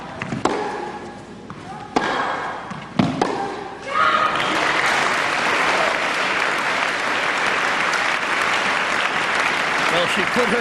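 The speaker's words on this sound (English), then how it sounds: "this rhythmic clapping, such a unique part of the European experience" A tennis crowd at a women's semifinal in Luxembourg breaking into sustained, dense applause after a few isolated ball thumps, a steady wash of many hands that carries on under a commentator's voice.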